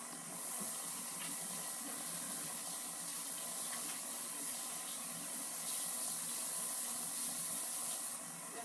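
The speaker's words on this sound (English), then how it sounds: "And I'm going to rinse my hands." Tap water runs steadily into a kitchen sink as hands are rinsed, a constant soft hiss of flowing water throughout with no talk.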